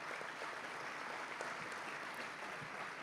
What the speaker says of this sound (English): Please, a round of applause for our platinum investors.